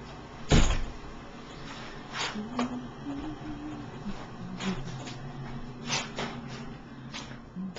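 A front door opens and shuts with one loud thump and later softer knocks and rattles, against a steady background hiss during a snowstorm.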